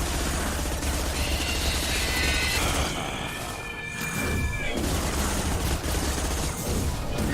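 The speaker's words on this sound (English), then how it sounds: "Let's switch to the SMG." Sustained submachine-gun fire in Mass Effect 2, dense rapid bursts that keep rattling with brief dips, loud and close amid other combat noise.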